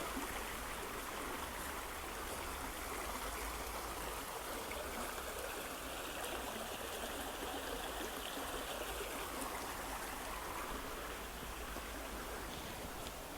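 A river stream flowing steadily beside a walking path, a constant broadband rush and gurgle with no breaks, fairly quiet and heard alone without speech.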